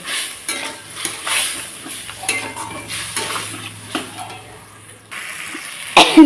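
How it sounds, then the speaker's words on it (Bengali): Masala with vegetables, ginger and cumin paste, and a bowl of water is stirred and cooked down in a pan for a pabda fish curry, giving close scraping strokes over a low simmering sizzle, ending in a loud clatter. "এখন ভালোভাবে আবারও আমি মশলাটাকে কষিয়ে নেব"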